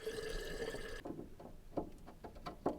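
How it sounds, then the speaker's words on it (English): Water poured into a pump on a tiny narrowboat, first a steady close filling rush, then after a sudden stop a run of separate splashes and drips, near and fairly quiet. "We'll just try and get some more water in and see how it goes."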